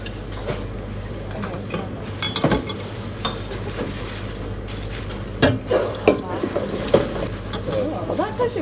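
Pots, pans and utensils clatter and clink while pasta cooks in a kitchen, with sharp metallic knocks scattered irregularly over running water and a low hum, with people talking in the background.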